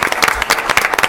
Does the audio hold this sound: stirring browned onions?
no